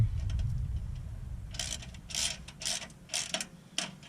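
Socket wrench turning a 14mm bolt on the exhaust of a Pontiac G6, a run of five or six quick ratcheting clicks in short bursts, close and fairly quiet over a low background hum.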